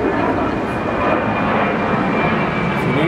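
An airplane flies overhead during an outdoor shoot, a steady, broad rumbling drone that holds at an even loudness for the whole stretch, with no one speaking.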